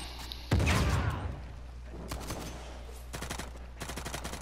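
Rapid gunfire from an Uncharted multiplayer match, a loud close burst opening the clip and decaying, then several shorter crackling volleys of automatic fire follow, with no talk over them.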